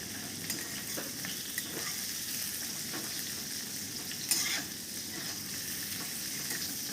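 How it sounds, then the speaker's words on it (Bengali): Steady sizzling of medium-chopped onion frying in a pan, with a few light scraping clinks of stirring scattered throughout. "এবার এই কুচনো পেঁয়াজটা খুব ভালো করে ভেজে"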